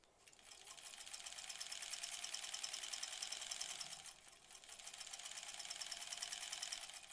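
A sewing machine runs in two steady bursts of rapid, even stitching as quilt blocks are sewn together, with a brief slowdown between them, close and fairly quiet with no speech.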